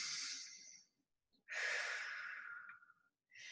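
Deep breaths during a supine exercise class, two soft close exhalations and the start of a third separated by short silences, quiet and alone.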